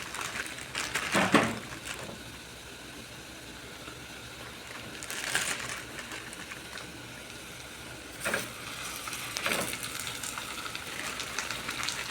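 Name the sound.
minced meat frying with onions in a pan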